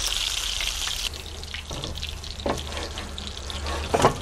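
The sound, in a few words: fish patties frying in a pan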